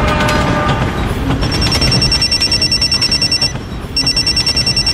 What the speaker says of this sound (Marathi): थोड्याच वेळात माझा फोन वाजला.